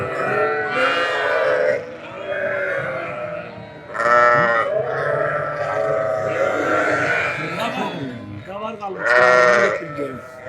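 A ewe bleats repeatedly for her lambs on a Çukurova village farm, loud, close, wavering cries in several bursts, with people talking between and under the calls.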